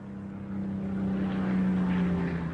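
WWII Hawker Hurricane propeller fighter plane droning past, a low, steady engine hum with a sustained tone that swells slightly as it comes closer.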